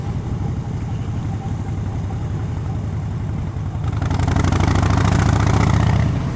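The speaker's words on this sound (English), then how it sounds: "I'm out riding my motorcycle" A Harley-Davidson motorcycle engine runs steadily while riding, then grows louder and rougher around the midpoint as it revs up, sustained throughout with no talking.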